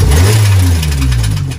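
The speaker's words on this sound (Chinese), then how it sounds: "刚点火就把父子俩吓一跳，这应该是右侧皮带轮有什么东西在皮带上一打火被甩出造成的声响" A 2015 Honda Civic Si engine cranks and catches with a loud low rumble while something is flung off the belt pulley. The sound is close and strong, then eases off toward the end.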